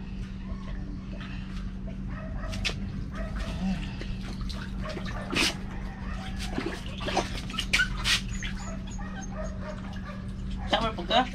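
Philippine puppies whimpering and yipping during a bath, with irregular high cries and water sounds over a steady low hum; voices talk intermittently.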